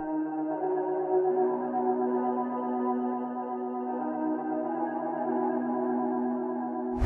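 A long, washy ambient synth chord swells and sustains with heavy reverb and echo, ending in a sudden sharp burst.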